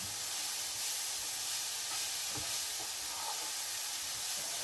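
Onion frying in a pan for mushroom soup, a continuous even sizzle and hiss with faint clicks underneath, fairly loud and alone.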